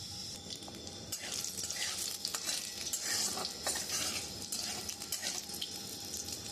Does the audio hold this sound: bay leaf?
yes